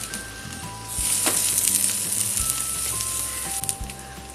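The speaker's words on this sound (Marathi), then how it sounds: "आता आपण ह्या बाजूने परतून घेणार आहोत।" Kappyache ghavane, a traditional Konkan rice-flour pancake, sizzles in a hot pan as it cooks, a steady close frying hiss that begins after a second and carries on alone with a few soft clinks.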